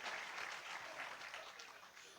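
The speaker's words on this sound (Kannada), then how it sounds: "ಒಂದು ಚಪ್ಪಾಳೆ ತಟ್ರಿ" Audience clapping at a comedy talk held in a monastery hall, a brief, fairly faint burst of applause that carries steadily to the end.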